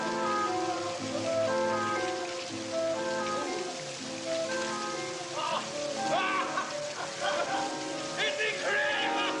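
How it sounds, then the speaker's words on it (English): Steady monsoon rain pours down in Bombay, a dense continuous patter heard throughout, mixed with music and faint voices in the background. "In Bombay, everyone dances when it rains."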